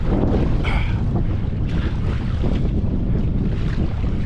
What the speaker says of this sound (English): there's a strong headwind, but then the gusts are just swirling like that